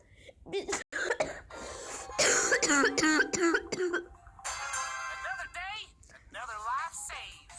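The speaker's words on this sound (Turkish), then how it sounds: "Fena öksürüyorum ya." A cluster of sharp, close coughs and throat-clearing bursts in quick succession, followed by someone talking.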